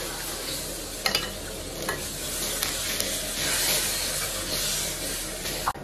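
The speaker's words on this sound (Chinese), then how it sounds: "用这个酱汁儿再煎这一会儿" Cod sizzles and is stirred in chili sauce in a pan, a steady frying hiss with scraping utensil strokes and a few sharp clicks, close and continuous with no talk.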